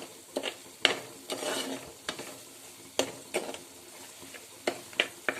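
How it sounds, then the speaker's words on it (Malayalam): A utensil scrapes and taps repeatedly against a pan while spices fry on very low flame with a light sizzle underneath, close up and fairly quiet. "ഏറ്റവും ലോ ഫ്ലെയിമിലിട്ട് വേണം മൂപ്പിച്ചെടുക്കാൻ അല്ലെങ്കിൽ കരിഞ്ഞു പോകും എന്താ ഇങ്ങനെ ഇളക്കി കൊടുക്കുക"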